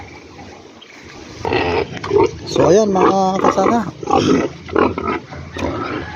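Pigs grunt and oink at a pig farm during the rainy season, with repeated close snorts mixed in with someone talking throughout.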